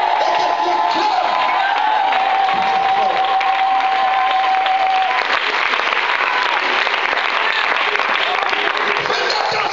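A church congregation bursts into loud, sustained applause and cheering, dense clapping with whoops and shouts rising throughout, close and filling the room, while a voice speaks faintly beneath the noise.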